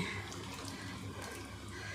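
Water poured into a pot of mutton curry on the stove, a steady close pouring and splashing that runs the whole time without pause.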